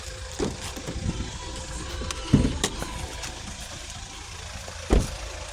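A 2015 Kia Sportage 2.0 diesel engine idles with a steady low hum, broken by a few dull knocks and thumps nearby.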